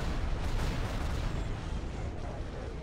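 Laser cannons of X-Wing fighters firing in a Star Wars space combat game, a dense, continuous roar of blasts and rumble filling the whole stretch, loud and close with no talk over it.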